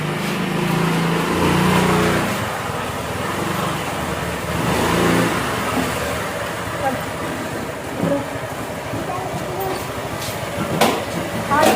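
A car is driven fast along a road, its engine and tyre noise a steady, fairly loud rumble that swells and eases, with talking running over it throughout.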